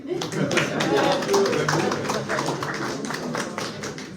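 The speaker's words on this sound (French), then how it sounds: "N'hésitez pas à applaudir" At a local community meeting in Vémars, an audience claps in a dense, steady patter of hand claps lasting several seconds, recorded from within the room.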